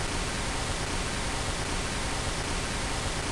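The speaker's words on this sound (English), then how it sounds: "So I'm going to solo the pink noise" Pink noise soloed in music production software, a dense, steady hiss with a darker, less bright tone than white noise, continuous and unchanging.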